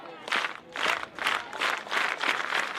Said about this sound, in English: You can hear the crowd having a little bit of a different roar with her up to bat